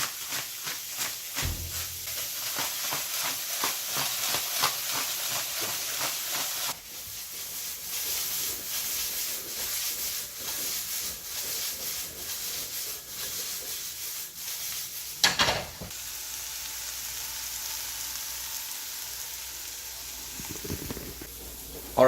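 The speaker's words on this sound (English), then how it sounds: "olive oil in the pan. Next, veggies in the pan." Vegetables sizzling in olive oil in a pan for a budget Bolognese, a steady hissing fry with occasional stirring scrapes and a brief louder clatter partway through, continuing alone throughout.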